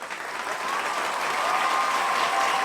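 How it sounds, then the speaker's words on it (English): Audience applause at a talk show: a dense, steady wash of many hands clapping that swells slightly after the first half-second and holds at an even level throughout. "Clap, y'all."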